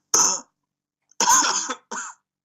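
Two or three hoarse coughs, one short burst, then a longer rough one followed by a brief final hack, close and alone.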